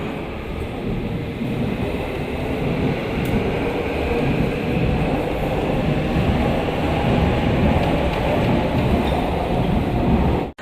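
A Seoul Line 2 subway train rumbles along steadily toward Seolleung Station, a loud continuous roar of wheels and motor inside the car, cutting off abruptly at the end.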